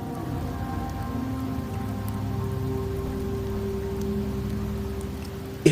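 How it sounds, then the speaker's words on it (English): Steady rainfall in Septimont in the game Wuthering Waves, an even, continuous patter under a low sustained musical drone, with no talking. "The rains in Septimont never seem eager to leave this season."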